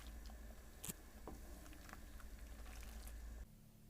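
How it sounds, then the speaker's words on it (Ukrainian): Pasta boils in a pot of salted water, giving a faint, soft bubbling patter with a few small pops. The sound is quiet and steady, then drops away near the end. "Макарони варимо в підсоленій воді до готовності."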